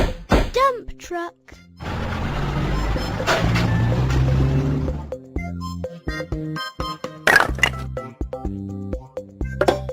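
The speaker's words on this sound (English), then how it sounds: "truck." A truck's reversing beeps sound in short repeated bursts, mixed with engine noise, a thunk and other brief vehicle sounds, with moments of near silence between them.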